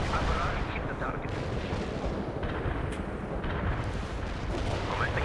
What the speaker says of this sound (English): Launching the barrage.